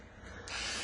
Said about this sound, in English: was going to spray the bolts